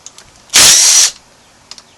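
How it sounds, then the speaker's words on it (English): An impact wrench with an 8mm socket zips a bolt on a motorcycle during a front sprocket change, one loud half-second burst close by, followed by faint clicks. "I'll get my 8mm socket. I want to go ahead and put this on an impact."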